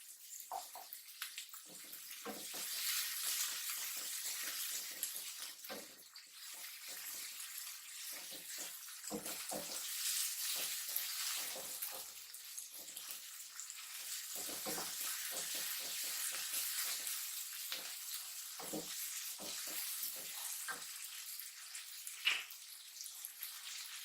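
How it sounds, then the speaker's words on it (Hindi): Vermicelli roasts in a pan, a continuous soft hissing sizzle up close with scattered scraping stirs, steady and unaccompanied by talk. "इसे कहते हैं थोड़ा सा कच्चा भूनना, इसीलिए हम इसे थोड़ा कच्चा ही भूनेंगे।"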